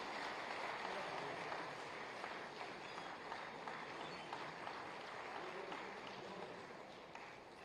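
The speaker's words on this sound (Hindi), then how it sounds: "लगातार तालियों के बीच" Steady applause fills a large hall during an awards ceremony for cocoon production prizes. The clapping is sustained and moderately distant, with a faint murmur beneath it.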